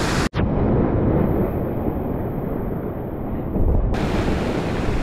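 Ocean surf rolls in on a rising tide, a broad, steady roar of breaking waves with heavy wind rush on the microphone, loud and continuous after a brief cut near the start.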